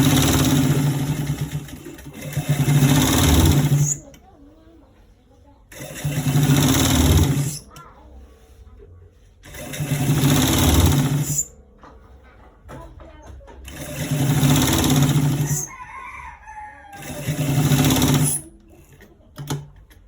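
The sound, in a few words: sewing machine stitching a stripe on trouser side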